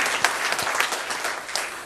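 A church congregation claps together after a sung hymn, a dense, steady wash of hand claps lasting under two seconds with no talking over it.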